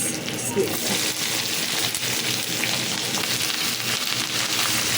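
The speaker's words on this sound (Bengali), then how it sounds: "ভাজা হয়ে গেছে, দিচ্ছি পেঁয়াজ।" Onion frying in a pan for a chicken and vegetable snack, a steady broadband sizzle and hiss that runs without pause, with a voice faintly present at times.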